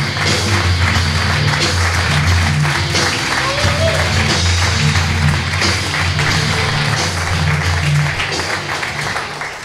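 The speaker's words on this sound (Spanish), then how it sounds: "fuerte el aplauso para Mati Acuña." A comedy club audience applauding and cheering for stand-up comedian Mati Acuña, a dense steady wash of clapping that holds loud and close before easing slightly at the end.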